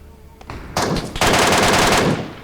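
A scoped MK marksman rifle fires in PUBG Mobile, the shots coming as a loud, dense rapid burst that starts after a couple of faint taps and holds steady for over a second before stopping.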